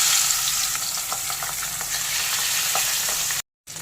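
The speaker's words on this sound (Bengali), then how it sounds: "তেল গরম হয়ে গেছে, মাছগুলোকে ছেড়ে দেবো।" Pabda fish frying in hot mustard oil in a kadai makes a loud, continuous close-up sizzle with faint crackles, then cuts off abruptly just before the end.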